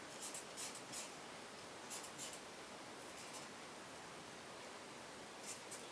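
A nearly dried-out marker drawing on paper: a faint, steady scratchy hiss of the tip dragging across the sheet, with a few slightly louder strokes at the start and end and no talking.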